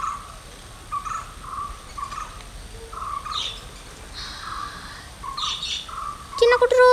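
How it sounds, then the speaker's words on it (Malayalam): Pet lovebirds chirp in a series of short, bright calls spaced about a second apart, nearby and moderately loud, ending in a sudden louder burst of rapid chirping. "ഇതിന്റെ അമ്മ കിളിയുടെ സൗണ്ടാണെന്ന് കേൾക്കണേ ഉണ്ട് കേട്ടാ. അമ്മ അമ്മ സൗണ്ട് ഉണ്ടാക്കി."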